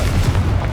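A single deep, booming blast of the Confringo fire spell in Hogwarts Legacy, loud and close with a low rumbling body that fills the whole moment.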